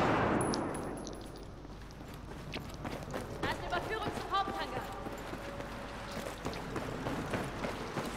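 Battlefield 4 game gunfire on an airport map, with sharp scattered shots and clattering impacts over busy battle ambience, under a voice speaking throughout.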